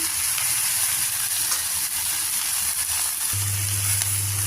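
Brinjal, tomato and fenugreek leaves sauté in a hot pan for a chutney, giving a steady close sizzle and hiss with a low hum joining near the end.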